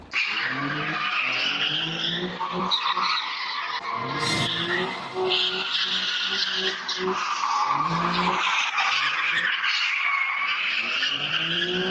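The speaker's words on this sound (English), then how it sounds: "Cars doing burnouts and drifting through the intersection." Cars doing burnouts and drifting through a city intersection at a street sideshow, tires squealing and skidding continuously with revving engines, loud and sustained throughout, recorded from nearby home surveillance.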